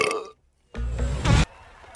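A cartoon character lets out a loud, rasping burp of under a second, bursting in after a short silence and swelling at its end before trailing into a quieter tail.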